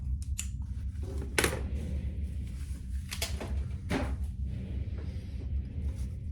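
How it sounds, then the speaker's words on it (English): Scissors snip through a zipper for a sewing project in a quiet room, a few sharp separate cuts spaced a second or two apart over a low background hum. "I'm just gonna cut my zipper at like, I don't know"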